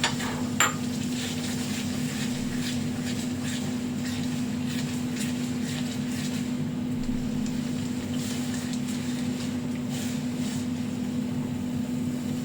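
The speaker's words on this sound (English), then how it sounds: "I'll allow them to fry at least for 3 minutes on a low heat" Blended pepper and shrimp mixture frying on low heat, a soft continuous sizzle with a steady low hum beneath and occasional faint clinks of a utensil against the pot.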